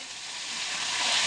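Fish dropped into hot cooking oil sizzles loudly in a broad, steady frying hiss that swells slightly over its short span, close up with no talk.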